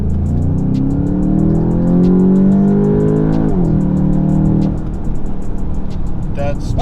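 A Volkswagen Golf 8 GTI, essentially stock, revs hard under acceleration in second gear, its engine note climbing steadily and loudly before dropping off near the end, with light background noise after.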